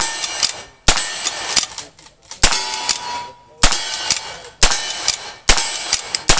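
Rifle shots ring out at a cowboy action shooting match, six sharp cracks spaced roughly a second apart, each with a metallic ring and the clack of the lever action between them.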